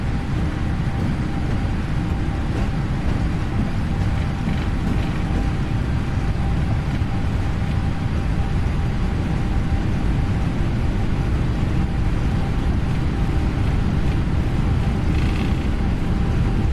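Airliner engines at takeoff thrust in the Prepar3d flight simulator, an American flight departing London Heathrow: a loud, steady, continuous roar with a faint whine, unbroken throughout.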